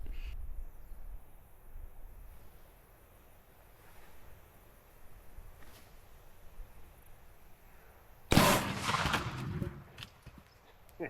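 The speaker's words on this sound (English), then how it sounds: "let's see if we can't knock it off the table one last time with some number 8 12 gauge bird shot" A 12 gauge shotgun loaded with number 8 birdshot fires a single sharp, loud blast outdoors, followed by a brief decaying echo. Before the shot there is a long quiet stretch of faint insect-filled ambience.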